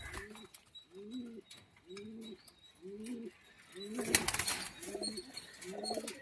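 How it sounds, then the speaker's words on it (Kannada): Domestic pigeons coo in a loft after returning from flight, a steady series of throaty, rolling coos repeating about once a second, with a brief burst of rustling or flapping in the middle and faint chirps behind. "ಆಗಲೇ ಲಾಫ್ಟ್ ಲೈನ್ ಮುಗಿಸ್ಕೊಂಡು ಬರ್ಡ್ಸ್ ರಿಟರ್ನ್ ಆಗಿದ್ದಾವೆ. ಈಗ ಕಾಳೆಲ್ಲ ತಿಂತಾಯಿದ್ದಾವೆ."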